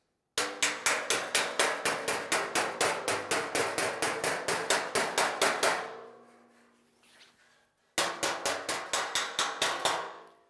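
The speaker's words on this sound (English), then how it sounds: "we're going to correct this back by using the same hammer on dolly technique" Rapid, even hammer strikes ringing on sheet metal backed by a dolly, a long run of sharp taps on high spots, a short pause, then another quick burst, all close by.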